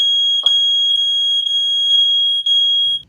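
A smoke alarm blares a loud, continuous high-pitched electronic tone at close range, broken briefly near the end before cutting off, with no talking heard.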